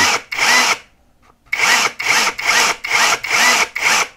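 Heimerdinger LB142 cordless grease gun running in repeated loud motor bursts, one long run followed after a pause by six rhythmic pulses of whirring with regular gaps between them, close and clear with no talking.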